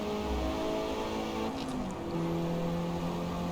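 Engine of a racing video game car revving up as it accelerates into a corner, a steady loud droning tone with shifting pitch bands, alone with no talk.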